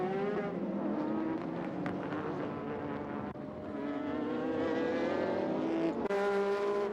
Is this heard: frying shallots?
no